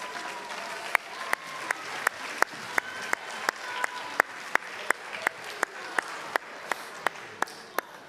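Audience applause at a school academic bowl, rewarding the 6th grade team after a correct answer; a steady, even wash of many hands clapping fills the room throughout, with sharp louder claps punctuating it at regular intervals.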